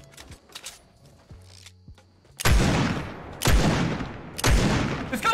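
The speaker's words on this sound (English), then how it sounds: "This gun's terrible! As I miss every shot." Video game gunfire from a scoped revolver in Fortnite Battle Royale: three loud, sharp single shots about a second apart, each with a booming tail, after a quieter stretch of game sounds.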